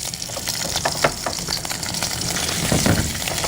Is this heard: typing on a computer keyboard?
no